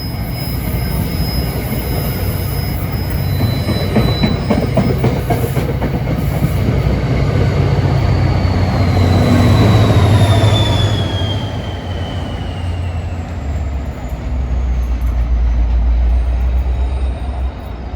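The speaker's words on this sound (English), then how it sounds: "Here's train 880 for Hoboken. Should have the CNJ unit shoving." NJ Transit train 880 bound for Hoboken passes close by with a CNJ-liveried locomotive shoving at the rear. A loud rumble swells and fades, with rhythmic wheel clatter, a drawn-out horn-like tone and a faint squeal.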